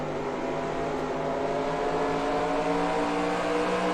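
A Toyota TS040 LMP1 race car engine in Assetto Corsa holds a loud, continuous high-revving whine, heard close and without pause and with no talking.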